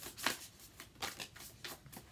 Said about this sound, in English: I'll show you after I finish shuffling